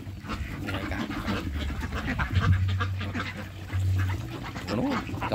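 Yi-Liang ducks quack repeatedly in a busy, overlapping chorus nearby, with some honking calls among them and outdoor background noise.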